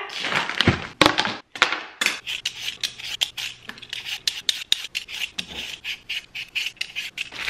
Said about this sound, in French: Alors mission éplucher des pétacs.